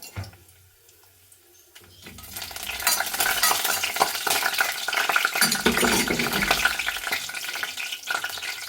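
Sliced onions hit hot oil in a pan for mutton curry: after a quiet start, a loud, steady sizzle of frying builds and holds close, with occasional stirring scrapes and no talking.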